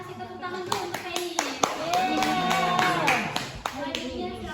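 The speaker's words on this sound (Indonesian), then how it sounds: "Kita kasih tepuk tangan dulu untuk Penny." Classroom applause for a student, a burst of hand claps from a group of schoolchildren lasting several seconds, with children's voices chattering and calling out over the clapping.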